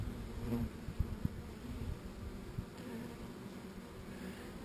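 Honeybees buzz around the entrance of a hive, a continuous low droning hum with individual bees passing close, steady and moderately faint throughout.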